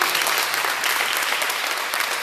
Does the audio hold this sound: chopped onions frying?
no